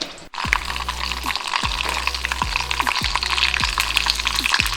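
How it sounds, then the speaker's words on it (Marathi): Mustard seeds crackle and sputter in hot oil in a kadhai, a close, continuous sizzle with repeated sharp pops and a stirring scrape now and then. "आपलं तेल गरम झालं की त्यात आपण सगळ्यात आधी मोहरी टाकून घ्यायची."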